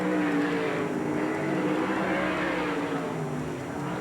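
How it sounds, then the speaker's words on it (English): Race cars in a 1992 Slick 50 series event at Manzanita Speedway roar continuously around the track, engines droning and swelling as they pass, loud and sustained with no talking heard. "That's Meyer, the red car, running high."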